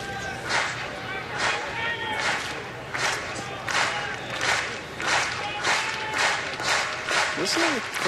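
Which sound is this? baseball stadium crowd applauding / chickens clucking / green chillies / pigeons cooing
baseball stadium crowd applauding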